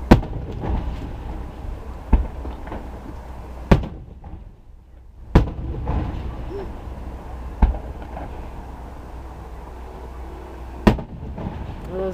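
Sharp fireworks bangs crack at irregular intervals during Fourth of July celebrations, about eight loud explosions over steady background noise with faint voices nearby.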